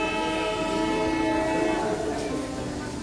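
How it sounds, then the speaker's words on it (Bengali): Darjeeling toy train drawing into the station, with a steady, loud horn blast held across the whole stretch, its tone slightly wavering near the end over general station noise. "অলরেডি এই টয় ট্রেনের আওয়াজ, মানে সাউন্ডে আই এম লাইক থ্রিল"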